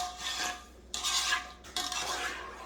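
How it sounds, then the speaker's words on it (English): A spoon stirs salted broccoli and cheese quinoa in a pot, giving three close scraping, swishing passes with short pauses between them and no talking. "So I'm just gonna give it a little stir like this."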